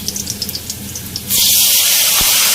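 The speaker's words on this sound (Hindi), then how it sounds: "अब मैं इसमें पानी शामिल करूँगी।" Water poured into a hot onion tempering in a cooking pot: a brief crackling sizzle gives way to a sudden loud, hissing rush of steam and pouring liquid that carries on steadily.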